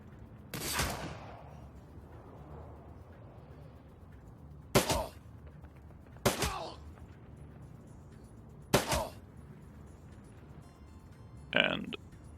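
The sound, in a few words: gunfire in Shadowrun: Dragonfall video game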